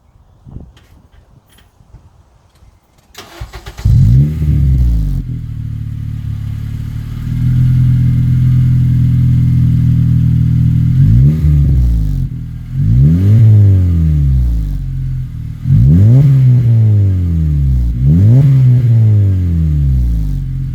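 A 2009-2014 Acura TSX fitted with a Tsudo exhaust, starting up loudly after a few quiet seconds, then idling and being revved repeatedly in close, rising-and-falling sweeps with a raspy exhaust note.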